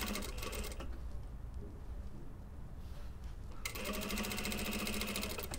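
A sewing machine stitches knit neck rib onto a lined bomber jacket, running steadily and close by, slowing to a quieter whir midway before speeding up again, with no voices.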